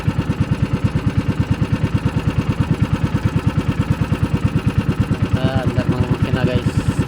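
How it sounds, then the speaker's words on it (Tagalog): A boat engine runs steadily near a pier, its low mechanical throb thumping in a fast, even rhythm that stays loud and constant throughout. "Andar ng makina guys."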